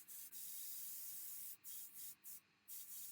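Copic Air Can spraying in short hissing bursts, several brief blasts separated by pauses, close and fairly quiet with no talking.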